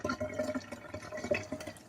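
Dirty rice-rinse water poured out of a pot into a sink, a continuous close splashing trickle with scattered drips, moderately loud and steady throughout, no speech.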